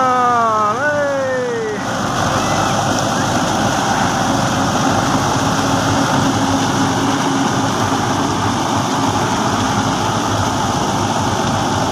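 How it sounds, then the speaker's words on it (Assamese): A heavy tractor engine rumbles continuously and loudly while ploughing a field, with a brief rising and falling whine at the start before the steady drone carries on. "দেখিছে কেনেকৈ ট্ৰেক্টৰে হাল মাৰিছে"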